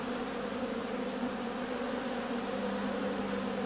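Honey bees drone in a constant, even hum in a late-autumn heather skep apiary, with a steady buzzing tone filling the air and no other sounds.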